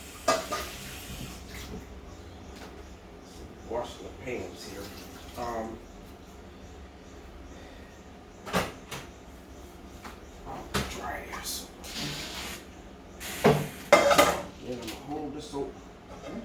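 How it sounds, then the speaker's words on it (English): Pans being washed in a kitchen sink, with running water, clanks and knocks of cookware, and louder metallic bangs toward the end, heard under intermittent talking. "Washing the pans here."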